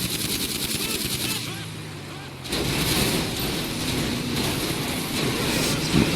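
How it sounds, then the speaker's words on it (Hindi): Gunfire in GTA 5 gameplay: dense rapid shots crackle continuously under game ambience, quiet overall and steady, with a brief pause partway through before the shooting resumes. "क्योंकि कोई गोली चला रहा है"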